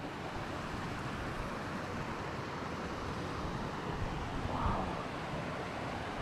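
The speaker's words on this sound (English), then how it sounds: "Look at the way that waterfall comes down over the stone." A tall waterfall in a wild Scottish glen pours down over stone, a steady, broad rushing roar heard from a distance with no voices, faintly mixed with wind.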